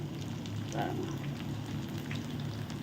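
Vegetable cutlets fry in oil with a faint, continuous crackle and bubbling sizzle and no talking.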